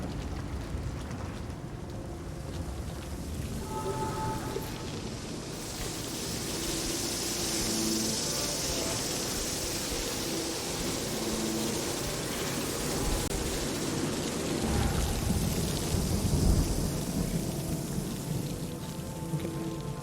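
Steady heavy rain with low rumbling thunder during a stormy scene in the video game The Medium, a continuous dense wash of sound throughout.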